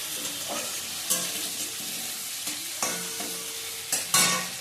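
Food fries in a pan with a continuous close sizzle, punctuated by several sharp scraping stirs and spatula knocks.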